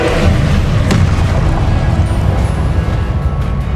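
A Confringo spell explodes in the Hogwarts Legacy video game with a loud, sustained, rumbling boom and crackle that fills the whole stretch, with a sharper burst near the start.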